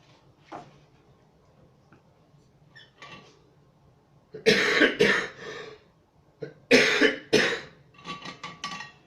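A few short, sharp coughs burst out in a quiet room, loud and close, separated by faint ticks and small bumps, with a brief softer cough early on.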